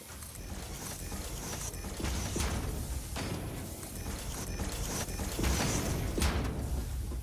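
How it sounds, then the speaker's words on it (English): Steady mechanical clatter and hum from factory machines turning out screws in the video game Satisfactory, a dense continuous industrial drone with faint rhythmic knocks throughout. "these are now producing screws"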